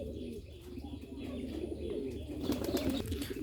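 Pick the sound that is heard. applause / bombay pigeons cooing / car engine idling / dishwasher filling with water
bombay pigeons cooing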